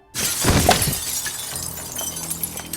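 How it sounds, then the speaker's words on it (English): A glass window shatters as a body crashes through it onto a car, a loud sudden burst of breaking glass followed by a trailing scatter of tinkling shards. "still ends up crashing through the window onto a car"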